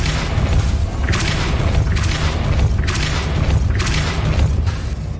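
Depulso spell cast in Hogwarts Legacy, a series of heavy booming thumps recurring roughly every second over a dense, loud low rumble, no voices.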